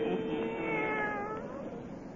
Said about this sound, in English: And now let us join old Nancy and Satan, her wise black cat